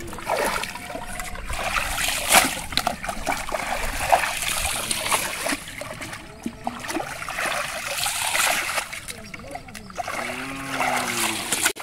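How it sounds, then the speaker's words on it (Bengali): Raw goat skin is rinsed with water, with steady splashing and trickling, close by and fairly loud, and brief voices now and then. "তো বন্ধুরা এখন এটাকে ভালো করে ধুয়ে ফ্রেশ করে নিব"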